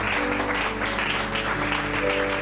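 A church congregation applauding, a dense sustained clatter of many hands clapping with a low hum of voices underneath, steady for a couple of seconds.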